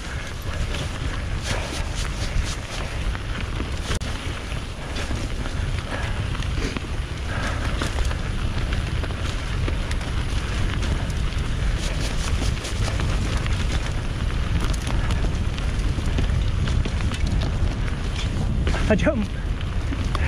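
Strong wind blows through a forest near Pitlochry, a heavy, continuous low buffeting rumble across the microphone lasting the whole stretch, with a person speaking briefly over it.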